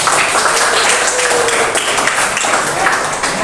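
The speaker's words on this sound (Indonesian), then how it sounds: "Sebelumnya kita beri aplaus dulu untuk satu." A classroom audience breaks into steady applause, many hands clapping together in a loud, continuous wash of claps with no pause.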